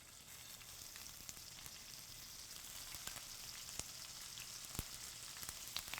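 Steady, quiet sizzling and crackling of shrimp frying in an oiled, preheated pan over medium-low heat, with occasional sharper pops over a continuous hiss.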